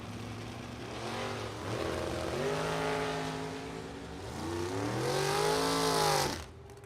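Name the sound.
drag racing cars launching, dragster and Camaro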